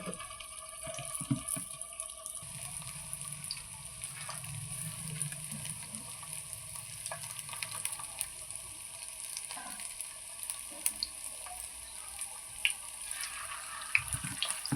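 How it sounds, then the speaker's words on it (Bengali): Beef kofta meatballs lowered into hot oil give a soft, steady frying hiss with occasional faint pops, fairly quiet and continuous throughout, with no voices. "এবার আমি তেলে এটা ছেড়ে দেব। এবার এটা ছেড়ে দিলাম।"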